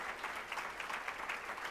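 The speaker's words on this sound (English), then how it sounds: "I'd like to ask for a round of applause to the entire board of directors" Applause for the board of directors at an annual Hispanic Heritage community breakfast, a steady, fairly faint patter of many hands clapping across the room, even and continuous without voices.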